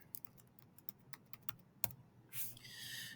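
Keystrokes on a computer keyboard, a quiet, close run of separate taps at an uneven typing rhythm, ending in a longer rustling clatter.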